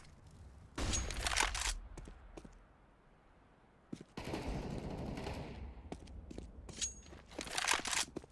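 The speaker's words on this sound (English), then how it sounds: "I'm throwing a flashbang." Flashbang grenade thrown in Counter-Strike: Global Offensive, heard as loud broadband bursts of gunfire-like noise in three clusters, with a sharp crack opening a sustained roar midway.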